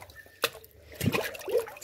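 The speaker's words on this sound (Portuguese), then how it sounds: "Pegar água na bica." Water pouring from an outdoor spout at a rural home, a short quiet run of trickling and dripping with a brief splash, fairly close and low in level, with no talk.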